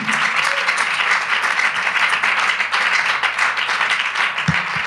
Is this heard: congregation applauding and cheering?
yes